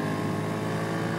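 Exhaust note of a Royal Enfield Interceptor 650 parallel-twin motorcycle with tuned pipes, a steady, dense harmonic drone at idle or constant revs, close and continuous.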